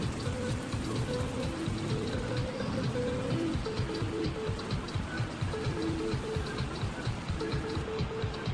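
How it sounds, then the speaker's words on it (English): A parts washer runs while Subaru FA20 engine caps and carriers are cleaned in it, giving a continuous spattering spray of fluid with a faint rhythmic mechanical ticking underneath. "we'll throw everything back in the parts washer to clean them all up again"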